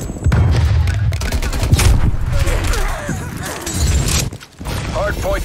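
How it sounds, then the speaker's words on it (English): Stun grenade going off during a Hardpoint match on the Moscow map in Call of Duty Cold War: a dense stretch of loud blasts and gunfire bursts with a sharp boom near the end, game announcer voice heard over it. "Stun grenade out."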